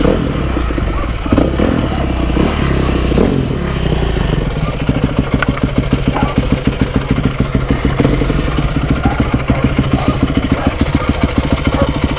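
A Yamaha 450 YZF motorcycle engine, in a garage, starts and settles into a loud, close, steady rapid-firing run with metallic clatter over it.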